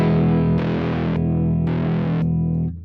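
An electric guitar plays through an overdrive pedal, producing a thick, distorted sustained chord. Two bursts of brighter, harsher tone sit on top before the sound fades out at the end.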